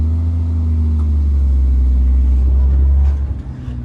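A Jeep engine rumbling off-road as it pulls forward slowly, a loud, steady low drone that eases off near the end, with no talk over it.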